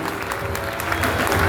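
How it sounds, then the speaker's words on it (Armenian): Wedding guests applaud the newlyweds in a loud, dense wave of clapping that holds steady and builds slightly toward the end, with a low crowd murmur beneath. "Պիտի խնդրեմ շատ բարձր ծափահարություններ հնչեցնենք մեր"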